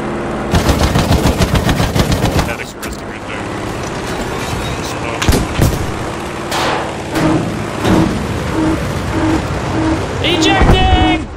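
An anti-aircraft gun fires from a boat in a video game, loud rapid bursts of shots mixed with heavier booms and rumbling over about eleven seconds, with people talking at times.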